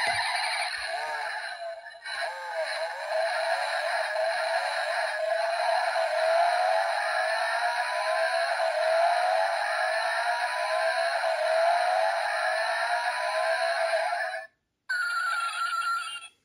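Electronic sound effect from a Rolls-Royce Phantom toy model car, set off by pushing down the front suspension: a continuous bright synthetic tone for about fourteen seconds, then a brief pause and a short resumption, no talk.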